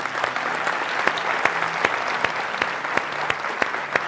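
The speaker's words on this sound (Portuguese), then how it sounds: "Você pode dar um aplauso ao Senhor?" A church congregation applauds the Lord during a Portuguese-language service, steady, dense clapping with a few sharp louder claps standing out, and a low background tone under it.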